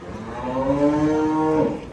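A single drawn-out moo from a smaller-sized cow at a farm's Qurbani livestock sale, loud and close, rising then holding steady for over a second before trailing off.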